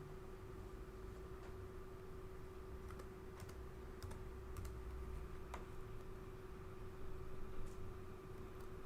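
Fingers tap out a name on a computer keyboard while setting up a Eurotherm 3504 controller, with faint, sparse clicks over a steady background hum.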